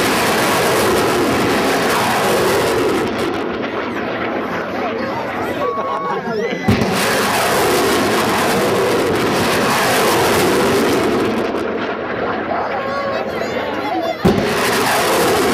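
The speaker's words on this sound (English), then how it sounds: "HIMARS, get ready to fire their rocket, armed and ready." A HIMARS rocket launcher fires a rocket, a loud sustained roaring blast with sharp cracks near the middle and end, heard outdoors with a broad rumbling wash throughout.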